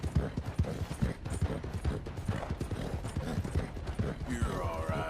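Horse galloping in the video game Red Dead Redemption II, rapid rhythmic hoofbeats close and continuous with creaking tack, a brief voice near the end.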